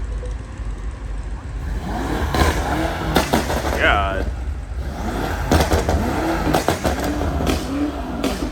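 A BMW car engine revs and roars as the vehicle pulls away at a BMW car meet, loud and close, with people talking and exclaiming over it.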